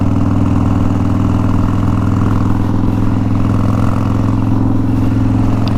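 A Harley Fatboy with a 140ci engine cruises at about 55 mph and just over 2,000 rpm, giving a loud, steady, deep rumble with no break.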